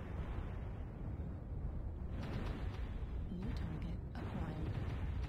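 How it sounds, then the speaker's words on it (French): Artillery strike in the MechWarrior Online mech combat game, with dense, rumbling low-end detonations rolling continuously under game noise and broadening into bigger blasts around the middle and end. "Je lance une artillerie strike."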